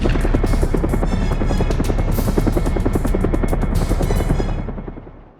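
Helicopter blades spin in the Syphon Filter 2 video game, a loud, steady, fast rhythmic chopping that carries on and then fades out over the last second.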